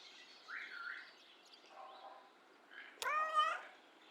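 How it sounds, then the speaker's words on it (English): A cat meows in the video game Kentucky Route Zero, a faint short call followed by a brighter, louder meow near the end over a quiet background. "Intrigued meow."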